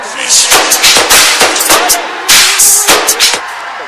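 Loud, close applause from a mushaira audience welcoming poet Qamar Ejaz in Parbhani, a dense burst of clapping that swells in uneven surges and distorts slightly, with no voices over it.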